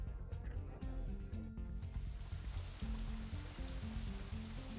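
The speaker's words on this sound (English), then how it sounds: "it's still raining outside when we exit the Shanghai, though it seems to be letting up a little" Steady rain falls outside in the visual novel Katawa Shoujo, a soft continuous patter and hiss heard under looping background music for the whole stretch.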